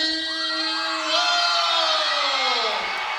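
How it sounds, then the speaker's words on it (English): A loud arena crowd at a Chosen Few Fighting Championship event in Madison roars and whoops for fighter Anthony Welch walking to the cage, a sustained wall of cheering and yells that swells around the one-second mark and holds steady. "the cheer for Anthony Welch, holy cow, do they love him here in Madison"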